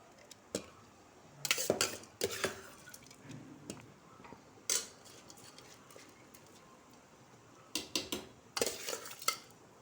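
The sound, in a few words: basmati rice added to boiling water and stirred in pot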